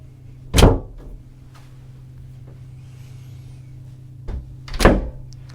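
A cabin door aboard an Explorer 62 yacht closes twice, two sharp near thuds several seconds apart over a steady low hum, with a softer knock just before the second one.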